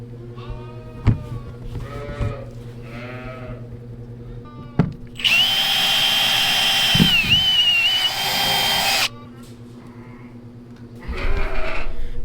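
A Milwaukee drill boring holes in a newborn lamb orphan pen, a loud close whine lasting several seconds with a brief drop in pitch, while lambs bleat before and after.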